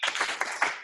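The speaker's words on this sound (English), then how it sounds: "Excellent. 2 claps." Quick, close handclaps in a short rhythmic burst, crisp and alone with no talking.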